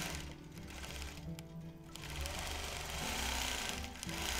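A sewing machine stitches down a fabric pleat with a steady, fast, close mechanical whir that runs the whole time with only slight swells.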